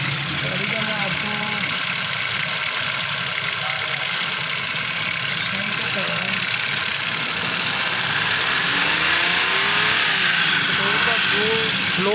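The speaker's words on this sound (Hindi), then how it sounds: "माशाल्लाह गाड़ी स्टार्ट है" A Daihatsu Cuore automatic, misfiring with a fuel fault and weak spark plugs, idles steadily up close just after starting, with a constant rumbling drone and faint knocking throughout.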